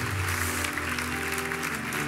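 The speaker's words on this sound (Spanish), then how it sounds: "¿Qué tal si damos un aplauso al Señor por las personas que hoy han entregado su corazón a Jesús?" Thick, continuous applause from a church congregation praising the Lord, heard over sustained background music, full and steady throughout the short stretch.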